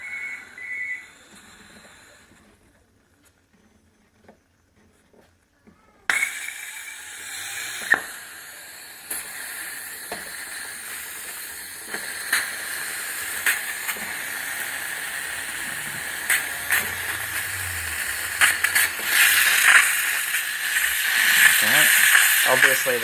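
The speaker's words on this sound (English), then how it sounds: "there's a lot of steam and a lot of pressure inside" Steam hisses and sputters from a Laurastar Go steam iron stuck with a power-off error. It starts almost silent, then a continuous hiss swells with scattered pops and spits over about twenty seconds.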